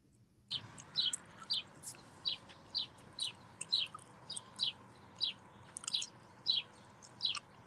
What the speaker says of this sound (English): Those are nice birds, Lucas